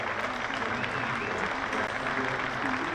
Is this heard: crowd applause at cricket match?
yes